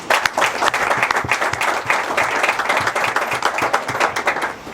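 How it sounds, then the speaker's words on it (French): An audience at a political party gathering applauds warmly, dense overlapping clapping held steady and loud for nearly five seconds. "On peut applaudir pour lui."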